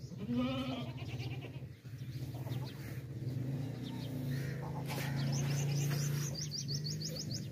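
A goat bleats up close while birds chirp and tweet steadily around it.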